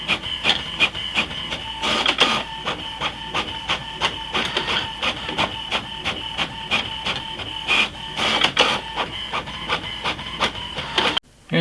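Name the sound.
HP OfficeJet 5740 printer printing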